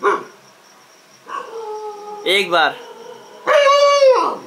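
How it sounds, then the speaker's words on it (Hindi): A dog howls and barks near a person at night in a residential colony, drawn-out harmonic cries and sharp yelps in separate bursts, with brief speech between them. "ये जो मेरे सामने कुत्ता भौंक रहा है"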